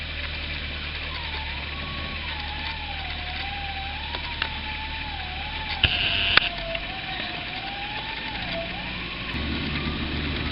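A four-wheel drive on a steep bush trail with tyres at full highway pressure, engine droning and revving with a wavering pitch as the wheels spin, steady and moderately close, with a few sharp knocks.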